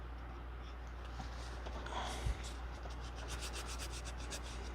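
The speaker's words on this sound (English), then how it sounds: "Now that I sanded those corners, they're not, or those edges, they're not going to leave quite as distinctive a mark" Sandpaper rubbing along the edges of a bookbinding board, a faint, steady scratchy rasp with soft repeated strokes near the end, quiet and close.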